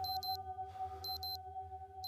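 A quiet electronic alarm clock beeps in short paired bursts, pausing between rounds, over a faint steady hum.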